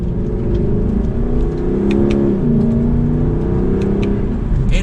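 A 2021 Lexus LC 500 convertible V8 pulling in second gear in manual sport mode, a smooth, loud, steady engine drone with rising tone heard close, no talking over it.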